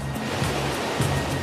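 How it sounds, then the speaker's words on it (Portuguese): Storm waves driven by a strengthening hurricane in the Gulf surge and break in a steady, loud roar with periodic swells. "as ondas ficam com mais de 6 metros de altura"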